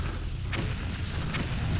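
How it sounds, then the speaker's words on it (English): Grenades bursting in the video game Alien Shooter: Revisited, two sharp blasts about a second apart over a dense, rumbling game background. "So if I just stand here and shoot a couple grenades."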